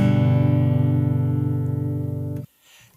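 Guitar chord on the lowest three strings, struck once and left ringing with a slight rhythmic shimmer, then abruptly muted, followed by faint handling noise.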